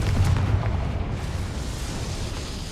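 A Confringo blasting spell goes off in a Harry Potter video game, a loud deep boom with a rumbling low-end tail that rolls on steadily for a few seconds.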